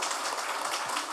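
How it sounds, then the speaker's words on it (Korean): Audience at a book talk show applauding, a dense, steady wash of clapping from many hands that fills the whole short stretch without a break. "다시 한번 큰 박수 부탁드립니다"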